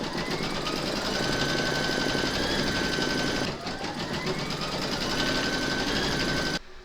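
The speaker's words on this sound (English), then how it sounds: "Load your thread for the design motif into your machine, and then you're going to stitch round number 1" An embroidery sewing machine stitches a placement outline for a floral coaster: a steady, loud, fast mechanical whirr with rapid needle rhythm that runs continuously, briefly dips, then resumes before stopping near the end.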